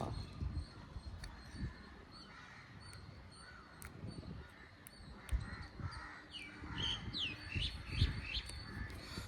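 Crows caw in short repeated calls outdoors, distant to moderately near, scattered over a windy, rustling background with some smaller bird chirps.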